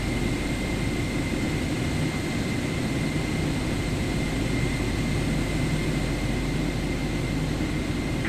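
An aircraft engine drones steadily while taxiing at Copenhagen Kastrup in Microsoft Flight Simulator 2024, a loud continuous hum and whine that holds level throughout with nothing else heard.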